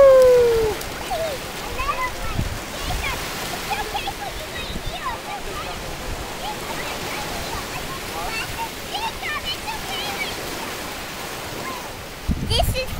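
A child splashes through a rainwater puddle with scattered wet slaps and sloshes, while high voices chatter and call out nearby over faint background noise.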